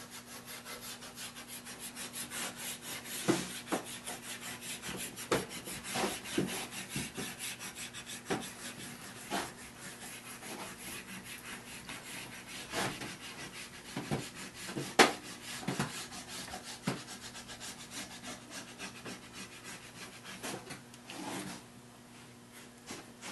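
Fluoro wax compound is rubbed into a ski base in short irregular scrubbing strokes, close and faint, with scattered sharper scrapes and no talking.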